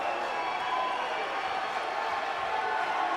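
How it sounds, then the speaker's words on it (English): A college men's basketball crowd at an MSUM vs CU game, a dense, continuous roar of cheering and jeering filling the arena, with a commentator's voice mixed in. "And the crowd's still relentless on Van Pelt."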